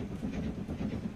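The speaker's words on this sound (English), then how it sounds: "Let's just watch this train come in" A steam-era train in Transport Fever 2 rolls into a station with a steady rumbling clatter of wheels on track, moderately loud and continuous, with no voices over it.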